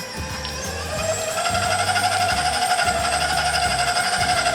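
An electric mixer beats butter and cream cheese for cookie dough on low speed, a loud, close motor whine with a rattling, pulsing beat that builds slightly and runs throughout.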